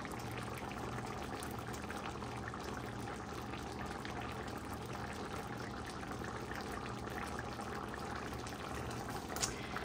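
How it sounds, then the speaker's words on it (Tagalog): Chicken pochero stew boils in a pot, a continuous low bubbling and churning that stays faint and even throughout with no voices over it. "Kumukulo-kulo pa siya."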